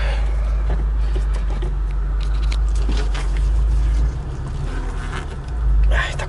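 A Subaru Impreza WRX with a 2.5-litre turbocharged engine rumbles low inside the cabin while being parked, its engine tone steady and then dipping and shifting near the end, with faint clicks and rustles.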